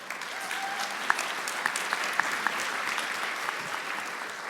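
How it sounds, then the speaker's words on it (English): A conference audience at the 2023 ASBH annual meeting, its 25th anniversary, gives a steady, even round of applause, a dense continuous patter of many hands with a few sharper claps standing out, heard from within the hall. "You can give yourself a round of applause for that."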